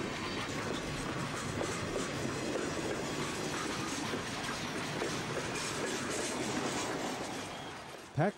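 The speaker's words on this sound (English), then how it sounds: "sees the passage of a CN through freight train" A long CN freight train rumbles steadily past on the rails in winter snow, wheels clattering continuously at close range, then a sudden sharp squeal at the very end.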